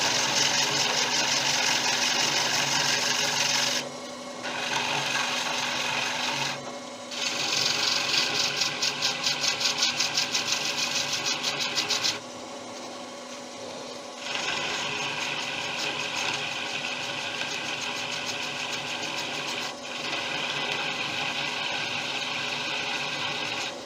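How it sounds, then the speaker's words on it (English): Acacia wood spinning on a lathe while being sanded, a steady close mechanical whir with a fine ratcheting buzz, broken by a few brief pauses. "Now I'm going to bring the rest of that down with sandpaper"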